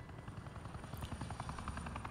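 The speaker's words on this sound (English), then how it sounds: "Wow, that helicopter looks like shit." A helicopter in the Batman Telltale video game The Enemy Within gives a fast, rhythmic blade chop over a low engine whine. It is faint and steady, with no talking.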